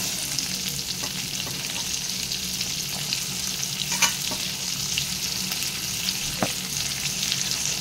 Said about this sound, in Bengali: পেঁয়াজটা দিয়ে হালকা আমি ভেজে নেব